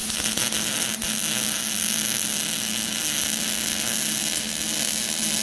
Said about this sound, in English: I'm going to try to basically go like this, weld and roll this as I'm doing it.